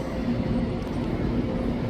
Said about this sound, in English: Wait for the train to arrive. Alright, here it comes. Looks like it's an Azure.